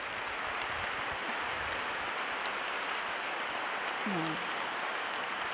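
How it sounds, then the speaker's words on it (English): An audience at an evening talk event applauds steadily throughout, a dense patter of clapping while a voice speaks briefly over it. "Oh no, they're applauding for you."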